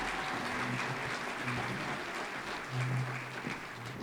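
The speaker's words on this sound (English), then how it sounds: "Let's give Lynn a round of applause." Audience applause at a National Philanthropy Day event in Cincinnati, a steady wash of clapping from a crowd with a few brief voices murmuring underneath.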